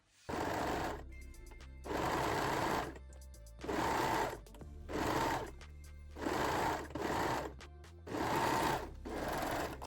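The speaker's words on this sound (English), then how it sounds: "sew this seam using a serger or zigzag stitch" A serger or zigzag-stitch sewing machine runs a seam on lace-back panties, six steady buzzing bursts of about a second each separated by short pauses, close and loud.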